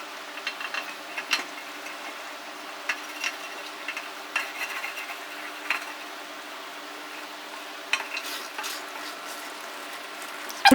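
A wooden spoon stirs and scrapes rice pudding (kheer) in a pot, with soft scraping strokes at irregular intervals over a steady low hum.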